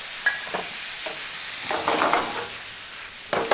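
Meat browning in a pan sits under a steady, bright hiss of sizzle, with occasional scraping and stirring clatters from a utensil, close and fairly loud.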